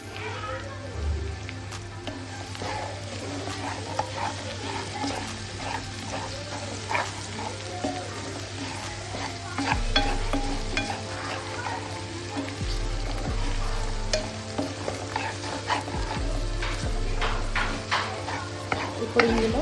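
Chili powder stirred into golden-brown frying masala for a village-style country chicken curry sizzles steadily close by, with occasional scrapes of stirring against the pan throughout.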